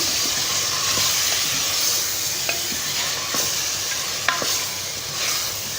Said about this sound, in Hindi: और पायों की 15 से 20 मिनट तक अच्छी तरह से भुनाई करेंगे।